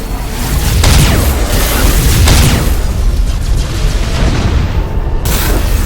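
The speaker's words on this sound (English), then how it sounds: "Nova cannon. Fire!" A nova cannon fires in the Battlefleet Gothic Armada space strategy game, heavy booming blasts with bright whooshing bursts over a continuous loud rumbling battle bed, no voices.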